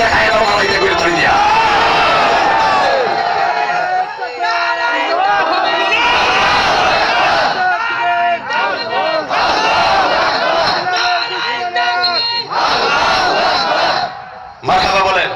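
A large crowd at an Islamic sermon gathering shouts takbir in unison. The loud, chanted calls rise and fall in repeated waves with brief pauses between the surges.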